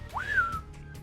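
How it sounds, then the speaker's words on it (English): Single short rising-then-falling whistle from The Binding of Isaac Afterbirth+ game, clean and fairly quiet over faint background. "The whistling just happens."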